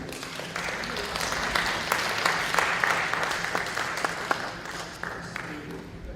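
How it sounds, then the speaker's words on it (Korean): A church or conference audience applauds to welcome a speaker to the podium at a prayer networking event, sustained warm clapping with a busy room murmur underneath. "우리 뜨거운 박수로 환영하시겠습니다"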